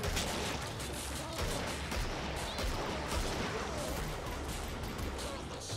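Rapid gunfire from the needle gun in Killing Floor, a dense, continuous stream of loud shots pressing on without pause across the whole stretch amid game noise.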